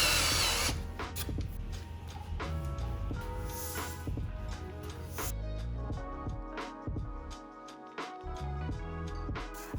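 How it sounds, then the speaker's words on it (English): A power drill whirs in repeated bursts, spinning up and biting into wood trim, with clicks and knocks between the holes; close and steady, no talking. "Next, it's time to drill the holes."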